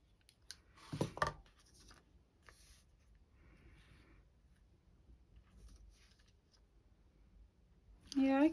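Scissors snipping a small bow out of paper for a handmade card, heard as a few close, crisp cuts near the start followed by quiet rustling, with a voice speaking briefly near the end.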